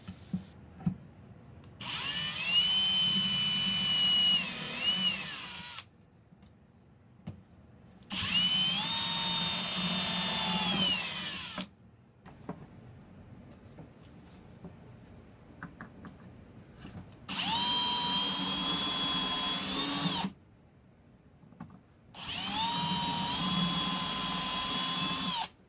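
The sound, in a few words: drill boring pilot holes for Blum drawer slide screws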